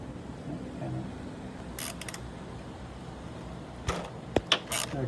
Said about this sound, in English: we're undoing the T27 front bolt there now